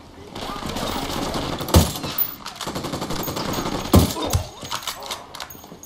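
Rapid automatic gunfire rattles through most of the stretch in Ghost Recon Wildlands, loud and continuous with two sharper heavy shots standing out, while voices talk over it.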